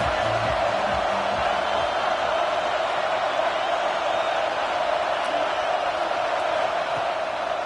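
A stadium crowd at a UCLA college football game makes a steady, distant roar that holds at an even level throughout, with no single cheer standing out.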